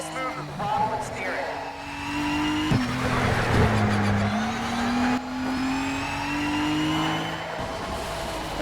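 A Nissan GT-R race car in the racing game Need for Speed Shift 2 revs loudly, its engine tone rising and dropping through gear changes, with brief tire squeals and skids.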